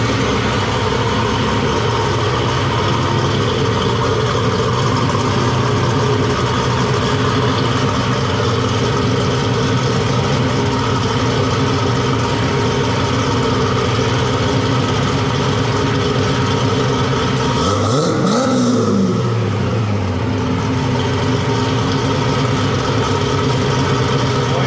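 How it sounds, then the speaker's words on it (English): A 1979 Camaro's supercharged small-block V8 idles steadily and loudly close by, a deep continuous exhaust rumble with a brief rev or shift in tone near the end. "Exhaust."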